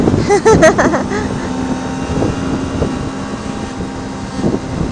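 A 2018 Suzuki GSX250R motorcycle in third gear on a test ride gives a steady engine drone under heavy wind buffeting across the microphone, with a short revving rise at the start.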